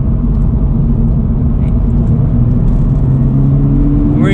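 A Toyota GR86 sports car engine pulls steadily under acceleration, a loud droning hum that climbs gently in pitch near the end, heard from inside the cabin with constant road rumble beneath.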